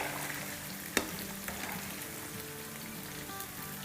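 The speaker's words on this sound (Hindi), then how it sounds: "2 मिनट हमने ईच साइड पे रखना है, इतना लाइटली फ्राई करना है" Chicken fries lightly in a pan with a soft, steady sizzle and crackle, with one sharp clack near the start and a fainter tap shortly after, no talking.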